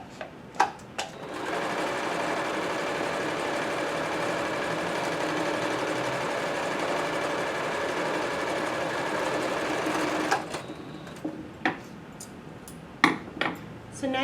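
A sewing machine runs continuously for about eight seconds while stitching fabric face masks, a close steady whirring buzz framed by brief clicks and handling taps before and after.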